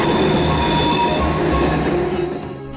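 Train wheels squeal loudly and steadily at a graffiti-covered Athens railway station, a sustained metallic screech over rumbling carriages that fades slightly toward the end.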